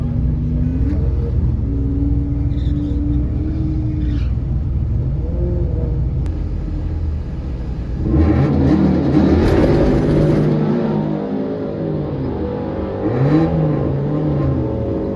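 A nitrous-fed Saturn drag car runs on a drag strip, engine droning and whining through rising revs, swelling into a louder rough roar midway, then easing back with further surges, no talking.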